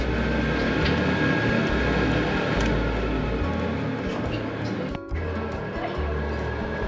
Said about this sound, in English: Sorry for the exhaust, it's too loud.